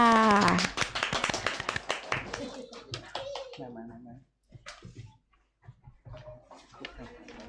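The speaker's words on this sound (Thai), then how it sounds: "ขอเสียงปรบมือให้คนเก่งของเราด้วยค่ะ" An audience at a Thai school morning assembly claps for honoured primary students: a burst of quick hand claps at the start, then children's voices and chatter with scattered taps nearby.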